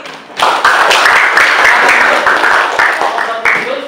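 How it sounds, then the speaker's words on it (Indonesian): A classroom of students claps hands for a group that has just finished presenting in a madrasah lesson, a dense, loud burst of applause that starts abruptly and holds steady for several seconds. "Ya, tepuk tangan dulu."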